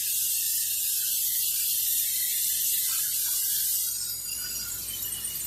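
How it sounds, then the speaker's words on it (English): Cooking spray hissing into a 9x13 baking dish, a close, steady aerosol spray for several seconds that eases slightly toward the end, with no talking. "I am going to just give it a good spray with cooking spray"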